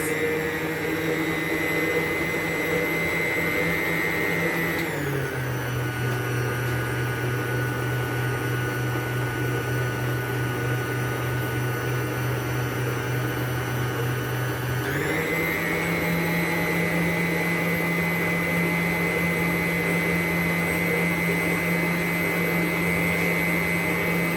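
An electric mixer beats carrot cake batter with a loud, steady motor whine that drops to a lower pitch for about ten seconds before rising back to its first speed, with no talking.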